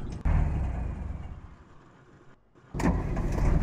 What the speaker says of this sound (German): Ah, hier muss der Motor an sein, okay.